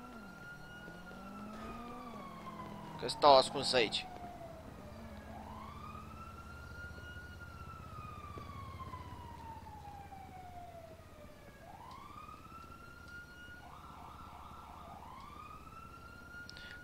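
Police sirens in the video game GTA V wail and yelp in repeated rising and falling sweeps, at times overlapping, with a brief loud burst early on and a voice speaking softly over them.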